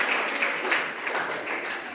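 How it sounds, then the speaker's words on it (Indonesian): Classroom applause from students, a steady wash of clapping hands filling the short moment at moderate level with no talk over it. "tepuk tangan."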